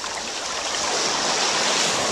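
Water rushes steadily from the open port of a SeaPack emergency desalinator filled with seawater, a loud, continuous close-up hiss and splash with no talk.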